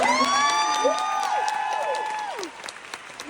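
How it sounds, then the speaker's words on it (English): An audience at the Texas Book Festival gives a round of applause, with loud, dense clapping mixed with high cheers and whoops that gradually thin out toward the end. "Let's give one more round of applause for Tracy."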